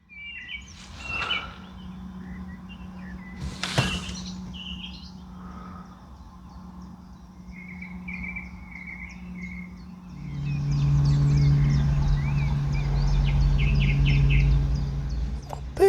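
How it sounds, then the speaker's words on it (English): Birdsong outside a parked car: several chirps and short warbling phrases, some near and some farther off, over a low engine-like hum that swells in the final seconds. "Can you hear these birds?"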